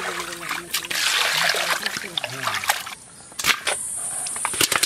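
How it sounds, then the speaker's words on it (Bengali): Cut cauliflower florets washed in water in a kitchen: close splashing and trickling water with a few sharp clatters of the pieces or the vessel, busy at first, then a short lull before splashing resumes. "আবার ভালো করে ধুয়ে নেব"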